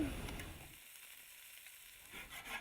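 Food frying on an enamel-coated ENO Plancha Mania gas plancha, a close sizzle that fades briefly in the middle and then swells again, with no talking.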